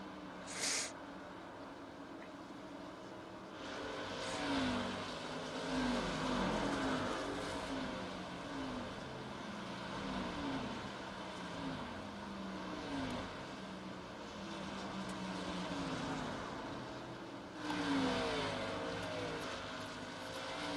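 Race cars lap a circuit, engines droning steadily as they pass by at a distance, with a couple of louder whooshing passes rising and falling over a continuous background roar.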